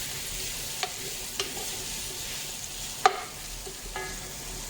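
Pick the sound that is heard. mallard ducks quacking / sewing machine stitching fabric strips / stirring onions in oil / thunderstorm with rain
stirring onions in oil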